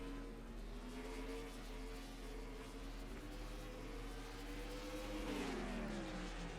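Race cars in an SS Amateur League pack circle Barrie Speedway, a steady loud engine drone with layered harmonics holding throughout and a rising rev surge near the end, no voices.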